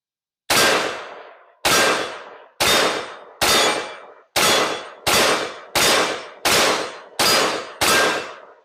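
An AR-400 rifle fires ten sharp shots of 180gr or 200gr full metal jacket ammunition at a range, evenly spaced about a second apart, each crack followed by a short decaying ring, with no talking.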